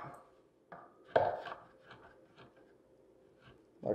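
Fresh herbs for a herb-crusted rack of lamb are chopped finely with a knife on a cutting board, giving a handful of soft, uneven knocks and taps, quiet and close.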